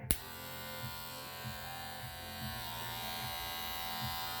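A WAHL Professional cordless lithium-ion hair clipper runs steadily with a constant close electric buzz and hum, fairly quiet, with faint soft bumps as it moves, no voices.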